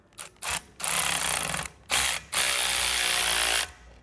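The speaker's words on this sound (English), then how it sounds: "I'm just going to use a ratchet to snug up the bolt real quick with an 18 millimeter socket" A hand ratchet with an 18 mm socket snugs a bolt during Ohlins coilover installation on a 1999-2005 Porsche 996 Carrera, giving loud close buzzing clicks in several sustained runs separated by short pauses.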